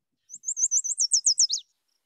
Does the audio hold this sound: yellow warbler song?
yes